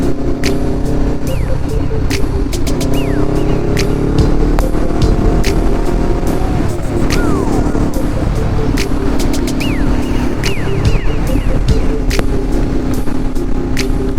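A 2021 Honda CBR 500R motorcycle on the road, its engine droning loud and close with pitch sweeps as it revs up and eases off, under constant wind rush.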